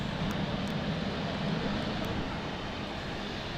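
KLM Embraer jet at London City Airport, a steady broad engine roar heard from a distance with wind noise, no distinct changes over a few seconds.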